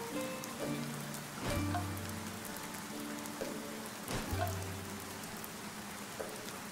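Rain patters steadily in the video game Dead in Vinland, a soft, even hiss beneath faint tonal game music and occasional muted thuds.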